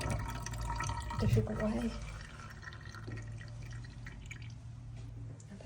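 A hot water tap drips into a single-bowl silver metal sink, irregular close drips and splashes over a faint steady flow, with a person talking over it.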